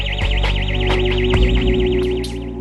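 A loud electronic siren wails continuously, its pitch sweeping up and down in rapid, steady cycles, with faint thumps and hum beneath.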